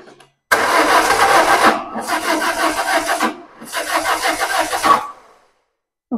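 Peugeot 1007 with a 1.6L 16V petrol engine cranking loudly without catching, in three rasping bursts of starter churn separated by short pauses, no voices.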